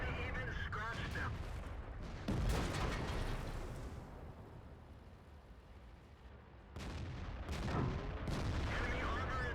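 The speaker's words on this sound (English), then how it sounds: "But I'm able again to shoot every 8 seconds at these tanks" Tank cannon shots boom in World of Tanks on an E75 heavy tank, heavy close blasts with rumbling aftermath heard a few seconds apart over game background noise, while someone talks.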